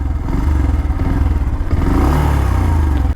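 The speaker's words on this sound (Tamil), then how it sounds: "இப்போ வந்து வண்டி ஸ்டார்ட் பண்ணி போகலாம், ஸ்டார்ட் ஆகுதான்ட்டு. அதான் வண்டி ஸ்டார்ட் ஆகிடுச்சிங்க." A Bajaj Pulsar 150 motorcycle, just refuelled after running dry, fires up and settles into a loud, steady, close-up idle with a low throbbing rumble that cuts off abruptly at the end.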